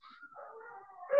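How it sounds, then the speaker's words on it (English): A dog in the background whimpers in thin, wavering whines, then gives a short louder yelp at the end, faint and distant. "My dog is really making noise in the background."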